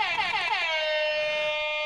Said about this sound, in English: the very horn that you guys hear every time we see a canoe